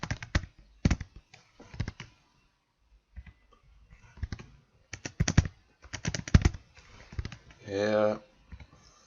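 Bursts of computer keyboard typing at a desk, quick clusters of crisp key clicks separated by pauses, with a person talking between them and a short buzzy tone near the end.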